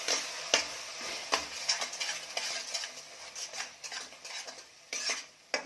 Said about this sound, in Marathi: आणि छान मिक्स करून घ्यायचं